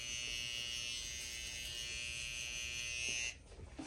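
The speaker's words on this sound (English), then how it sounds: "You just want to get rid of it using a trimmer." An electric hair trimmer buzzes steadily while cutting a line during a high taper haircut, a close, loud whine that stops abruptly near the end, followed by faint handling noise.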